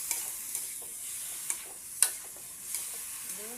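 Squid adobo stir-frying in a hot pan makes a steady bright sizzle, with a few sharp knocks and scrapes of the spatula against the pan as it is stirred.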